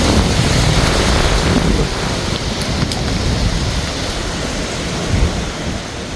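Heavy rain and gusting wind from Hurricane Melissa in Jamaica roar as a dense, steady wash close by, easing slightly after the first two seconds, with no voices present.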